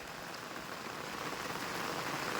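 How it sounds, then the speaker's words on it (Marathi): Heavy monsoon rain in the Konkan countryside near Ratnagiri, a steady dense hiss of downpour pattering on surfaces, continuous and even throughout with no voices. "पावसाचा आनंद येतो पावसाचा आनंद बघा"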